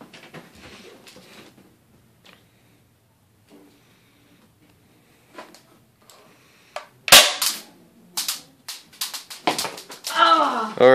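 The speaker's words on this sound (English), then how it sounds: "we have this BB gun, and we're gonna test how much or how many papers it takes to go right through" A BB gun is fired into a stack of paper, sharp cracking shots standing out loudly near the middle of the span, with several more pops and clatters following, and voices talking before and after.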